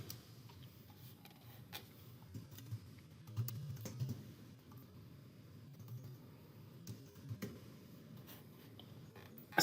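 Quiet, steady computer keyboard typing runs throughout as a title is entered, with soft scattered keystrokes and a few louder clusters of clicks, without speech.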